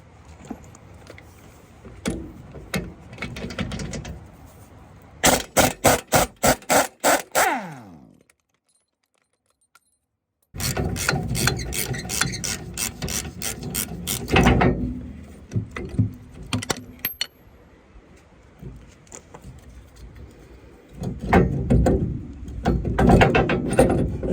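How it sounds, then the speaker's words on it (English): Ratchet wrench clicking as bolts come out of a Humvee shock absorber during a coil spring replacement, fast bursts of near, loud ratcheting with a short silent gap between, then more clicking and mechanical clatter. "So I'll take those 2 bolts out."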